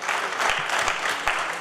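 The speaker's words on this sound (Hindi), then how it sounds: "जोरदार ताली बजाओ भाई" Crowd applause at a political rally, loud dense clapping from many hands that stays steady and close throughout.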